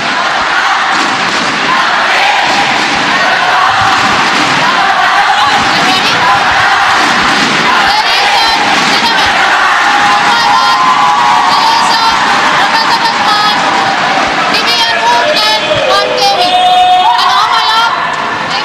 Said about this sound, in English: the very vociferous crowd at the moment, making themselves heard and showing their support for Malaysia, the host nation